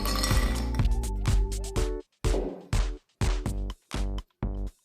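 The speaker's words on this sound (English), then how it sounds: "Now I will add a few ice cubes, and pour the Bloody Mary mix." Ice cubes clink and rattle into a glass in a quick cluster of bright, ringing hits, then a series of separate clinks spaced about half a second apart as Bloody Mary mix is poured over them, close and clear with no talk.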